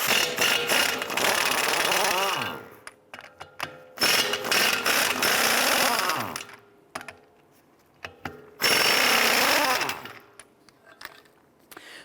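An impact wrench or power ratchet spins loose three 19mm bolts holding a wheel hub on a 2011-2018 Ram 1500, giving three long, loud bursts of rapid ratcheting clatter separated by brief quiet gaps.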